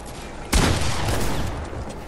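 A sharp gunshot burst in a Fortnite zone wars match, a sudden loud crack at the start that trails into a sustained rattling decay, with no talking over it.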